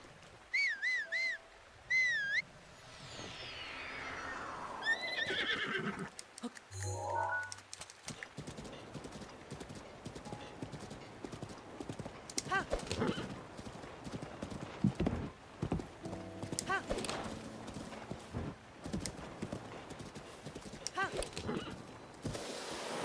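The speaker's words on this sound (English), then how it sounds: "Horse." A horse whinnies in short rising calls in a video game, then steady clip-clop hoofbeats follow with rustling and scattered clatter, fairly close and loud.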